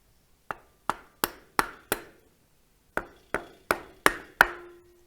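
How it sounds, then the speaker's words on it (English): Sharp metallic hammer strikes on a stuck engine lifter of a 1946 Ford One Ton truck, in two bursts, five quick blows, a short pause, then five more, each ringing briefly with a bright clang. "bang on this with the end of a hammer"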